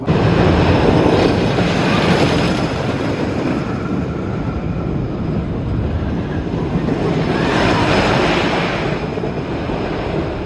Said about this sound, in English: it's a little loud because the train is going